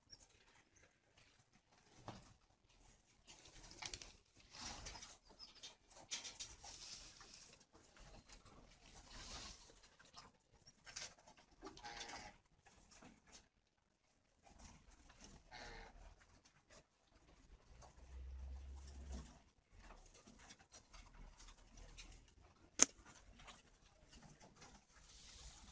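A northern Vietnamese spotted dove coos softly in intermittent phrases over a long quiet stretch, faint and somewhat distant, with light rustling and a sharp click partway through.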